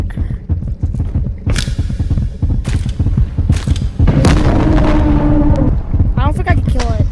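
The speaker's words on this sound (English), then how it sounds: "I just tried 2 rocket launchers." Rocket launchers fire in the video game Animal Company, producing a series of heavy booming blasts with loud rumbling tails. Excited talk and other game noise run over and between the explosions.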